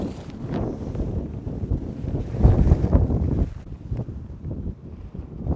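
Strong gusty wind buffets the microphone in an open camping field where an air tent is being set up. The rumble is loud and steady, with a stronger gust in the middle, and no one speaks.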